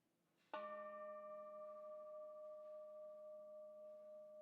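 A single bell struck once at a Unitarian-style community worship service, ringing out with a clear metallic strike and a long, steady sustained tone that slowly fades, heard alone.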